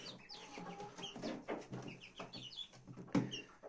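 Chicks cluck softly in scattered short calls at a distance, with a sharper knock or cluck near the end.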